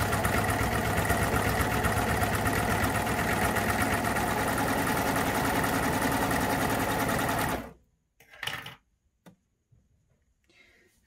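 Baby Lock Euphoria coverstitch machine stitching steadily and loudly for about seven and a half seconds, then stopping abruptly as it chains off, followed by a few faint handling clicks.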